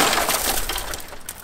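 Car window glass shattering after a strike from a glass breaker, a loud close crunching burst followed by tinkling fragments falling and scattering, with no talking.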